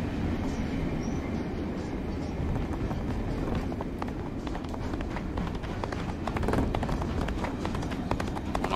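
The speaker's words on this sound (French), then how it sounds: "je pense que c'est un train, hein." A train rumbles steadily along in the video game This Land is My Land, a continuous low rolling drone with faint clattering, heard alone at moderate distance.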